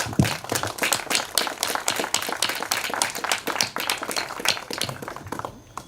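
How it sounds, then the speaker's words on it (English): Audience applause at a resilience summit: a dense, sustained crowd of hands clapping, close and lively throughout, tapering slightly toward the end. "So can we just applaud all of us?"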